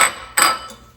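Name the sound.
stirring pie filling ingredients with eggs in a bowl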